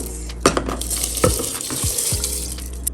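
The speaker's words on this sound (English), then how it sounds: "Now we're going to add the rice to the pot." Rice tipped into a cooking pot, a few scattered clattering hits and pours against a steady sizzling background, with a couple of sharp impacts standing out near the start.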